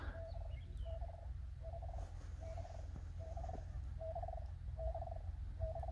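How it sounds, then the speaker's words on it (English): Outdoors near Independence Rock, a bird repeats a short trilling call about every half second, a steady series of about nine phrases at moderate distance over low background rumble. "it's a pretty sounding bird."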